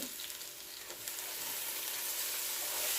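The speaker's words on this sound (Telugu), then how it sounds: "ఈ తాలింపులోనే గోంగూర వేసి అంతా కలిసేటట్టు కలుపుకోవాలి" Gongura leaves sizzle in a hot oil tempering while being stirred for gongura rice, a dense, continuous frying hiss close by with faint scraping, steady and without speech.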